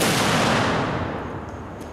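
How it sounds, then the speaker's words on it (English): Trick shooting outdoors in the style of Annie Oakley shots, a single loud gunshot boom that fades away over almost two seconds with a long echoing tail, heard alone. "We're going to see if we can't go 2 for 2 on the old Annie Oakley shots here today."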